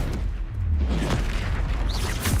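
A Confringo fire spell explodes in Hogwarts Legacy with a deep rumbling boom that rolls into a sustained low roar, loud and close.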